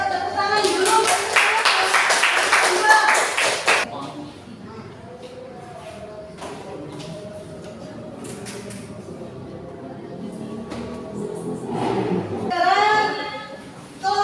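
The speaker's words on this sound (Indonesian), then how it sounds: "Ayo tepuk tangan dulu" Children in a classroom clap together in a loud, brisk burst that stops abruptly after about four seconds. Quiet room sounds and a few scattered taps follow before voices start talking near the end.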